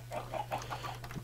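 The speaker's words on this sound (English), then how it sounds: "I'm gonna spawn a couple of chickens inside, like so" Minecraft chickens freshly spawned inside an enclosure, a short run of several quick, clipped clucks in a row over a faint steady hum.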